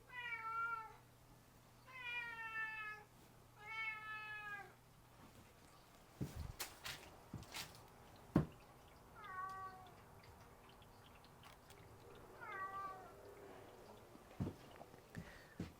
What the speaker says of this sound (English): A fucking cat in here.